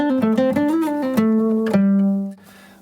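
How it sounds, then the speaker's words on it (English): Single notes picked one string at a time on a guitar, a quick run of about ten clear plucks that end on a sustained note, which fades out. The playing is close and loud, with no talk. "The other thing we can play on guitar are called notes, and that's when we're playing one string at a time"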